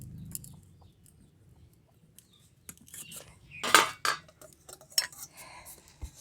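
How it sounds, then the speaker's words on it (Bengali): A knife scrapes around the edge of a bowl to loosen a freshly baked mango cake, giving a few short metallic scrapes and clinks with quiet gaps between them. "বাটির ধারেরও যে আছে সেইটা আমি একটু ছুরি দিয়ে ছাড়িয়ে নিচ্ছি"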